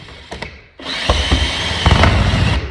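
A power drill fitted with a Phillips bit drives screws to fasten an in-ceiling speaker into its pre-cut hole, starting with brief taps and then a loud, close, sustained whirring run with bursts of higher torque, no talk.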